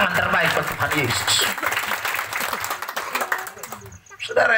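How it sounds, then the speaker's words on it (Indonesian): A church congregation at a revival service in Wormanem, Alor applauds in a dense burst of clapping alongside voices and a loud preacher, fading into a short lull before sound picks up again. "Beri tepuk tangan terbaik buat Tuhan Yesus."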